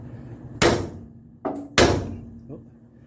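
A hammer strikes a car's steering knuckle to free a tie rod end: three sharp metallic blows, close and loud, with a fainter knock after, separated by short pauses.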